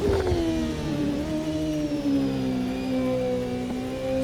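Race car engine in Automobilista 2 held at high revs at a standstill start, a steady loud drone with slowly shifting pitch and no talk over it.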